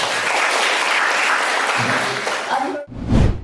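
An audience applauds a guest speaker at a summer course session, with loud, sustained clapping from many people that briefly dips near the end before swelling again.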